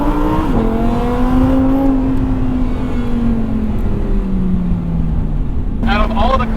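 A 2022 Lamborghini Huracan engine in Corsa mode drops sharply in pitch at a quick gear shift, then holds a steady drone before revving again. It is loud and close, with speech over it.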